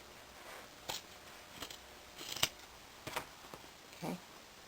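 Scissors snipping through the fabric of jogging pants while hemming them, a few quiet, separate cuts spaced irregularly over a soft background.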